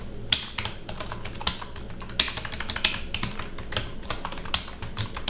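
Someone types steadily on a computer keyboard at close range. The key clicks come in quick, uneven bursts with short pauses between them.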